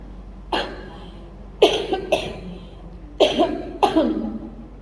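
Four rough, wet coughs in two paired bursts, close and fairly loud, as if bringing up phlegm, during an Islamic tauhid study talk; no speech over them.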